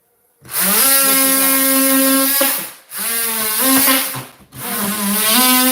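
A loud, steady buzzing drone with shifting pitch, broken by two brief pauses, close and dominant with no talking.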